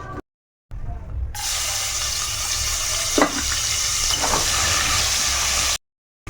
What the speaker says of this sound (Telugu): ఇగో అమ్మ ఎండ్రేలు వేగుతున్నాయి